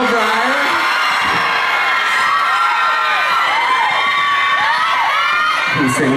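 A live crowd at a talent-show event in Khon Kaen cheers, shouts and whoops loudly and continuously, with high excited voices of young fans swelling throughout and a louder burst near the end.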